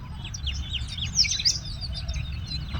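Small village birds, sparrows among them, chirp on an early morning in the fields, a busy string of quick, bright tweets overlapping throughout above a low outdoor rumble, with no voices.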